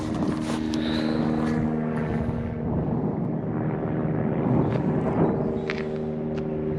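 A helicopter drones steadily overhead in a quiet rural spot near a bridge and farmland. The engine and rotor hum hold a constant low tone and stay moderately distant throughout, with no talking.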